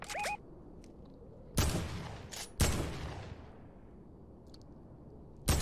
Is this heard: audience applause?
no